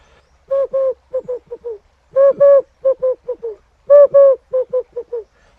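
Hand-whistled imitation of a red-eyed dove's call, three repeated phrases of cooing notes, each a pair of long hoots followed by a quick run of shorter ones, close and clear with no talk over it.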